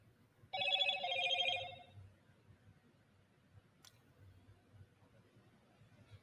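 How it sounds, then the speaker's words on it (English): A phone rings with an incoming alert, one short bright trilling burst lasting about a second, fairly close, then a quiet room with faint background noise. "my phone is blowing up"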